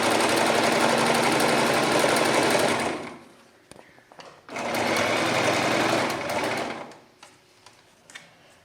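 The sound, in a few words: sewing machine stitching slipper sole and upper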